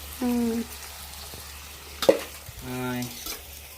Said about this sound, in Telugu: మనకి ఎర్రగడ్డ అనేది బాగా బ్రౌన్ రంగు రావాలి వేగిన తర్వాత